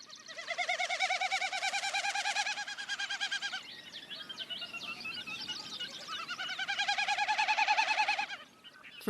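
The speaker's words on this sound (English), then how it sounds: "and a Wilson snipe." A Wilson's snipe calling over a marsh: a sustained, rapid, pulsing series of loud repeated notes, broken briefly in the middle by other bird chatter, then resuming, close and continuous.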